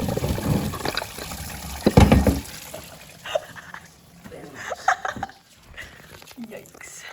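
Coolant from a VW TDI ALH water pump pours and splashes into a drain pan, a burst of liquid around two seconds followed by lighter trickling, with talk over it.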